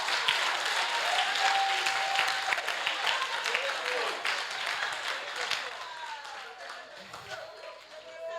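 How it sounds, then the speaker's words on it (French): Congregation applauding in praise of the Lord at a French-language church service, steady crowd clapping throughout with a voice in the mix, thinning out toward the end. "Acclame le Seigneur, acclame le Seigneur."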